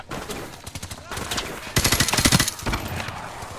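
Automatic rifle fire rattles in Call of Duty 4: Remastered, with scattered shots building into a loud, rapid burst in the middle before easing back to sporadic fire.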